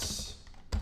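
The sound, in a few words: typing on a computer keyboard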